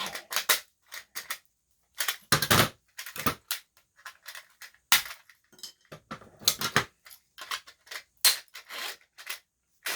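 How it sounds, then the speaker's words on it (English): Sharp, irregular snips and cracks up close, like Cutco scissors biting through a stiff plastic model tank part, separated by short silent gaps. "Good old Cutco scissors."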